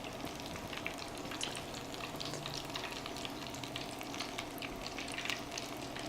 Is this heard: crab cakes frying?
yes